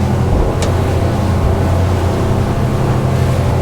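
Twin engines of a Monterey 298 motorboat running at about 3,600 rpm, a loud, steady rumbling drone with rushing water and wind, no talking.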